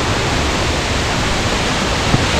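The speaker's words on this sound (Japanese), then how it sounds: "見てください、阿部の大滝、大きな滝が姿を現しました。" Abe Otaki, a large waterfall, gives a steady, loud, broadband roar of heavy falling water, continuous and close, with no voices.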